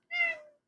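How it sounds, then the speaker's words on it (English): A domestic cat at home gives one clear, fairly close meow, a single drawn-out tonal call of about half a second with no other sound around it. "I'm at home and he keeps meowing."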